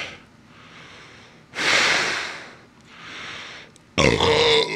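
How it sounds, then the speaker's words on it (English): After a swig of bad-tasting beer, a person lets out several loud burps and breathy exhales, ending in a harsh, raspy belch. "The burps are horrible."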